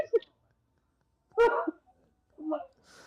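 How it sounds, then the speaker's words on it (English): A dog in a room gives a few short barks and yips at scattered moments, moderately close, among quiet stretches. "I have a fucking dog in here."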